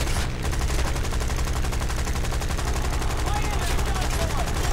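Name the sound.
machine gun fire from the video game War Thunder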